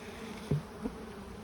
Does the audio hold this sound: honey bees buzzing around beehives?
yes